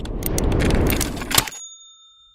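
A bright notification chime rings out clean and loud at the end of a burst of whooshing noise, its bell tone holding and slowly fading into silence.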